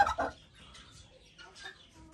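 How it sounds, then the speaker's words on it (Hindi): Pet turkey calling in short, loud bursts of clucking gobbles, a quick pair at the start and another call near the end, with quieter rustling between. "दूसरे हमारे मिस्टर टर्की बोलने लग गए"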